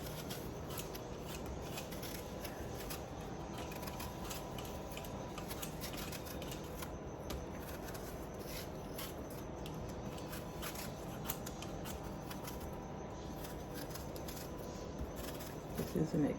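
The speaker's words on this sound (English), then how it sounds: "is gonna go ahead and peel these apples" Apples are peeled with a knife that is not made for peeling, giving a quiet, steady scraping and rasping that continues close up, with faint clicks near the end.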